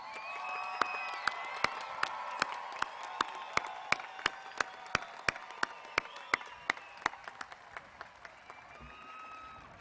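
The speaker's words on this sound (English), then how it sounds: "Please join me in one more round of applause for the class of" A commencement crowd applauds the graduating class of 2021 with sustained clapping and some cheering, while sharp, evenly spaced beats pulse through it before fading near the end.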